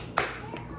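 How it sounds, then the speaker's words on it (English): One sharp, close hand clap rings out, then a faint softer second tap follows over quiet room background. "Show me your heart clap."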